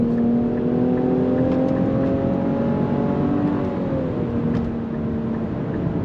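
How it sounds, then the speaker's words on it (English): A 2025 Nissan Rogue Platinum accelerates on throttle, its engine droning steadily with a rising, then slightly falling whine of simulated gear changes, heard loud and close from inside the cabin. "We're gonna go on throttle."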